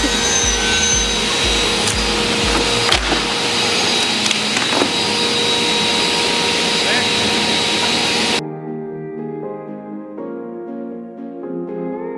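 Electric planer shaving a hardwood board for a live edge clock, a loud steady whine with rhythmic low passes early on and sharp knocks, cutting off partway as music takes over.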